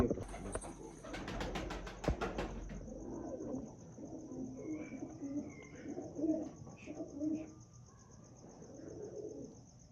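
Pigeons on a rooftop loft coo in soft, repeated low calls close by, with sharp clatter and a steady high chirp at the start and faint background sounds.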